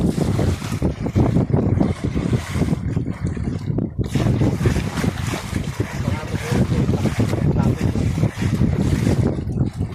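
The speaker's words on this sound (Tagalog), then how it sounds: "Ito, mahangin-hangin pa rin hanggang ngayon." Strong wind buffets the microphone in a steady, rumbling roar at sea, with water sloshing and a boat moving underneath.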